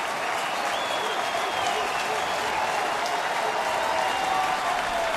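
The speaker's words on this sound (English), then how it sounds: "And the crowd to its feet." A crowd of more than 40,000 at a Detroit baseball stadium rises to its feet, cheering and applauding in a steady, loud roar as a commentator speaks over it.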